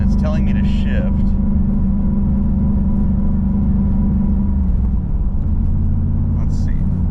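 A Camaro engine misfiring at part throttle around 3,000 RPM, a steady loud droning hum from inside the car with someone talking over it throughout.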